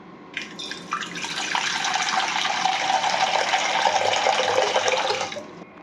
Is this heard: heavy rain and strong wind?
no